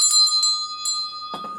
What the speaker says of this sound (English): There's some sort of a bell or a buzzer or something.